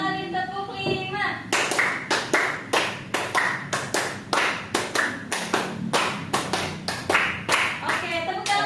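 Classroom group clapping game in repeated rounds, a long run of crisp, evenly spaced hand claps in a steady rhythm, loud and close, with a brief voice at the start and end.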